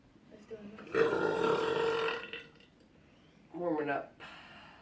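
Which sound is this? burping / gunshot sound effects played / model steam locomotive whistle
burping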